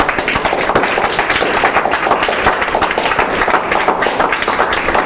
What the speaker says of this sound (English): Let's give a round of applause for George.